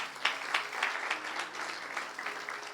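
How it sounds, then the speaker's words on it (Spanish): Church congregation applause at a Spanish-language evangelistic service, a brief burst of clapping with a slightly rhythmic pulse, moderately loud and free of talk. "¿Cuántos le dan un aplauso al Señor?"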